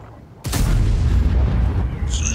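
Artillery self-propelled gun firing in World of Tanks: a sudden heavy boom after a quiet start, followed by a long rumbling roar that fades slowly, with a short faint tonal blip near the end.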